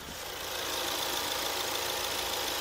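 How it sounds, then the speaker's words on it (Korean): A full-size four-wheel-drive SUV engine idles steadily up close with the hood open, a smooth, even hum with a faint hiss and no changes in pitch or any voices. "지금 바로 엔진 소리 한번 자세하게 들려드릴게요."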